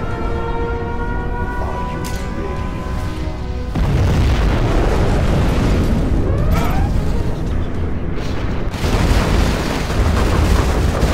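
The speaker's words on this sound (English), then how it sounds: "We have launched our nuclear missile." A nuclear missile strike in Command & Conquer Generals Zero Hour blasts with a loud, deep, sustained explosive rumble, continuing with rolling booms and debris noise and no talking.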